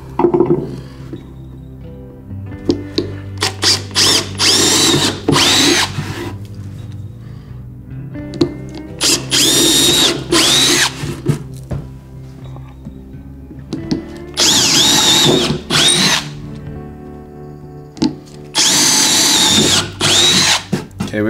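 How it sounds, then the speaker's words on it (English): A power drill bores holes through wood for mounting brackets on a wood duck nest box, whining loudly in several bursts of a few seconds each, separated by pauses. Low hum fills the gaps, and no one speaks. "We're gonna drill those out now."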